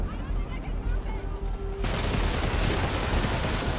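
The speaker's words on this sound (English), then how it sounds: "So there's some sort of gunfire going on." Gunfire in the Spider-Man PS4 video game, a dense rattling burst that surges in abruptly midway and continues as a loud, continuous barrage over a rumbling game soundscape.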